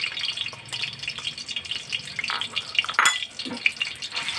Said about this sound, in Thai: ผัดให้หอมนะครับ